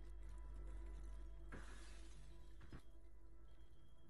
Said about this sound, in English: glass break?